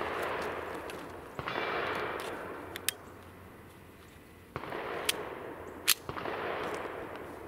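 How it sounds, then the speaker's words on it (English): A Raven Arms MP-25 .25 ACP pistol fires sharp, close shots spaced a second or more apart, with a bright crack on each round over outdoor background noise. "Let's see if I can empty all 6 rounds without a malfunction."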